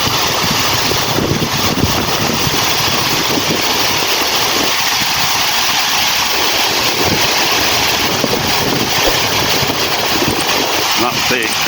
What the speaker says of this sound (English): The gorgeous fountains.